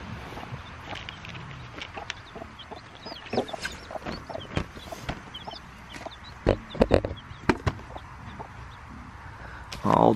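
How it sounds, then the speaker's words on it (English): Baby chicks in a coop cheep in a steady run of small high peeps, with occasional clucks from older chickens and light shuffling; moderately near and fairly loud, with a brief voice. "The baby chicks are in there just chirping away."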